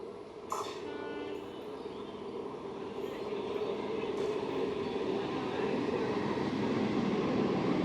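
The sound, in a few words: Midnapore–Howrah EMU local train entering Madpur station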